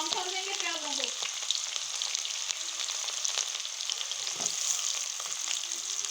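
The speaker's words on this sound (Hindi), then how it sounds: "अच्छी तरह से हल्का ब्राउन कर देंगे प्याज़ों को।" Onions frying in ghee in a pan until light brown, a steady close sizzle with crackling pops, plus a brief stirring scrape near the start and a soft clink midway.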